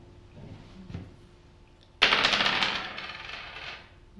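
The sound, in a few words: dice being rolled for a board game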